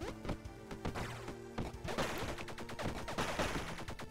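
Rapid gunfire from dual pistols in the video game Bleed, a dense run of sharp shots over game music, steady and loud throughout.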